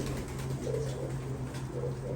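Pigeons coo softly in a Turkish pigeon loft in Istanbul, with repeated low, rounded calls over a steady background hum.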